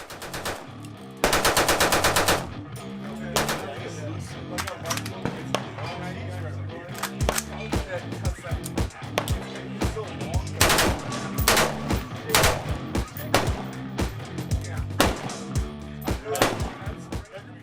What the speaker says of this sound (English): You can rent machine guns, which is pretty cool.